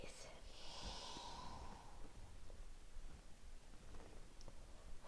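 Slow, soft breathing during a mellow yoga practice, heard close up as a drawn-out airy inhale and exhale with a faint nasal snort and light rustling.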